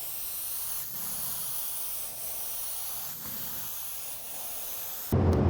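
A spray gun applies Viridian candy green paint in a spray booth, giving a continuous close hiss with slight pulsing that ends in a brief burst of louder handling noise.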